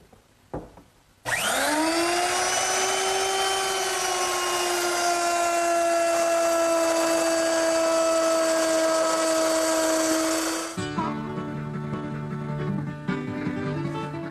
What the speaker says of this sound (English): And I'll plow all the grooves 3/8 of an inch deep.